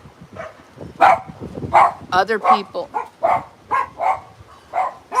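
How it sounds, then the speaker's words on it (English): Dogs bark repeatedly at close range in a steady run of sharp yips and woofs, with a person talking over them. "I don't know why they're barking like that."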